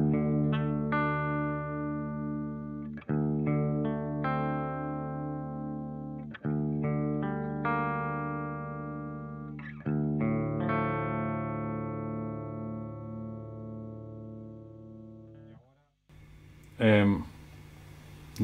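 Clean guitar played through a DSM Humboldt Simplifier pedal into a 4x12 cabinet with no distortion, ringing chords struck roughly every three seconds and left to sustain and decay, followed by a short burst of speech near the end.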